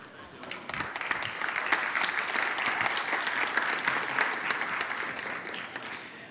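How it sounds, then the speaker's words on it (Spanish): An audience at the Ekoparty security conference applauds a speaker taking the stage, steady clapping across the whole stretch, fairly loud and dense, with a faint voice briefly audible. "bienvenida con un fuerte aplauso a Josué Rojas."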